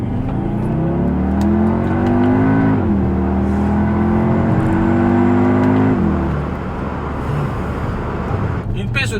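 Audi SQ2 with its 2.0 TFSI engine accelerating hard through the gears, a steady rising engine drone that drops at two upshifts before fading into road noise.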